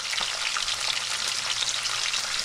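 Steady, dense sizzling of zucchini slices frying in deep hot oil, a continuous crackling hiss with small pops, close and fairly loud, no voices.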